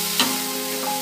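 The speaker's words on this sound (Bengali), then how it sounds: "সর্ষেটা মিশিয়ে নিচ্ছি খুন্তি দিয়ে ভালো করে" A spatula stirs mustard paste in a frying pan with fish cooking in oil, giving a close, steady sizzle with a single brief scrape of the spatula.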